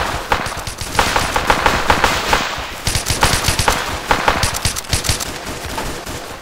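Gunfire in the video game Arma 2 during a night co-op mission, loud rapid bursts of automatic weapon shots in repeated volleys with short pauses between them.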